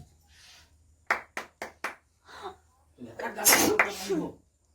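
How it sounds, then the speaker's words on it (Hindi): Four sharp sneezes in quick succession, close and loud, followed by a burst of several more sneeze-like outbursts, with quiet voices murmuring between them in a home setting. "कहाँ से छींक आवत है बार बार"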